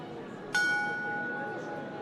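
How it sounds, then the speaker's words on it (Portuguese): A single bell stroke rings out, marking the hour: one sharp strike followed by a clear, sustained tone that slowly fades over a quiet background. "Essas badaladas marcam uma hora que já não existe mais, uma hora que se encerra."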